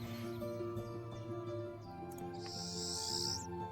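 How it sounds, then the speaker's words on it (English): A Pine Siskin bird call plays in the Wingspan video game as a card is placed, a brief, high, buzzy rising note heard faintly over soft background music. "I don't know how well you can hear like the bird calls whenever I place a card, but that was a very weird one."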